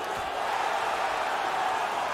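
Hockey crowd in the Saguenay arena roaring steadily for the Chicoutimi Fur Brigade during a game against Shawinigan, a dense continuous wash of cheering and shouting that stays loud throughout.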